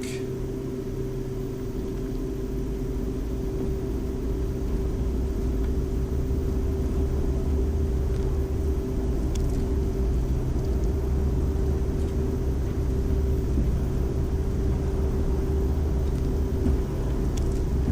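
An aircraft engine in the video game Air Hauler 2 holds a steady, loud, droning run-up with an even hum that carries on without a break for the full stretch.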